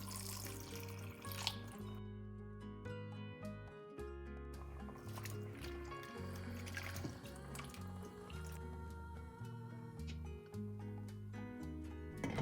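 Water splashes and trickles into a cooking pot of chopped vegetables for soup, a soft, uneven pouring and dripping sound that sits under steady background music.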